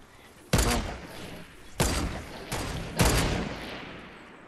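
Gunfire in the video game Fortnite: four sharp shots, each followed by a brief decaying rumble, spaced over a few seconds at moderate loudness; no talk.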